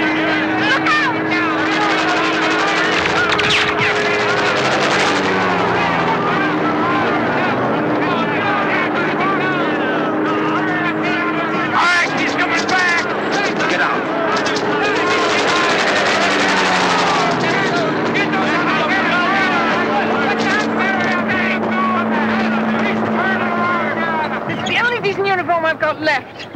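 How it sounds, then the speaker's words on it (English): Messerschmitt fighter plane flying in during a 1979 WWII TV film, a loud, continuous propeller engine drone that swells and persists throughout, with shouting voices over it. "Plane coming in!"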